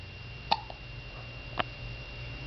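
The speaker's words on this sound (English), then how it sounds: "She has the hiccups." A young girl's hiccups, two short sharp ones about a second apart, close by in a quiet room.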